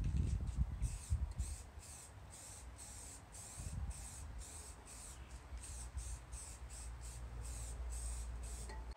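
Black gloss spray paint on EVA foam armour outdoors, a close hissing spray in a long sustained burst with short pauses, steady and fairly loud, no voices.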